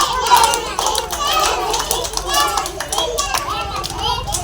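A class of children clapping together for a classmate during a school hopping game, a busy run of scattered hand claps mixed with lively children's voices throughout.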